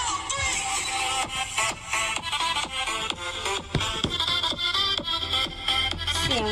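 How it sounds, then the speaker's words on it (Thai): Music plays through a homemade DIY speaker, with steady booming bass and a busy rhythmic beat running throughout at moderate volume. "ต้องเป็นเสียงแบบเบสกระหึ่มกระหึ่มนะคะ"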